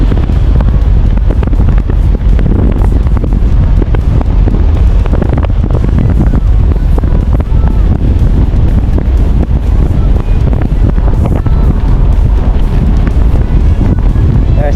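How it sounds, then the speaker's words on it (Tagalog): Heavy wind buffets the microphone in a constant, loud low rumble that drowns out nearly everything else for the whole stretch. "Ayan, malakas sa hangin."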